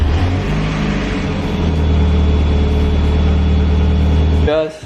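A 1990s NA Mazda Miata engine runs steadily after a repair, a loud, dense, even hum that holds for several seconds before cutting off abruptly.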